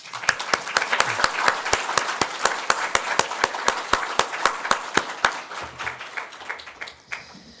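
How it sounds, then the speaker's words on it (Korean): Congregation clapping to welcome visiting church elders during a Sunday worship service, a steady run of sharp, rhythmic claps from a roomful of people that thins out and fades near the end. "환영하고 박수로 환영하겠습니다."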